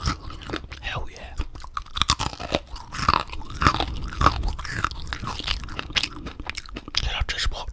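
Close, crisp crunching bites and chewing of a Big Mac Bacon burger, repeated crackly munches with sharp snaps, under a soft murmuring voice in an intimate, quiet setting.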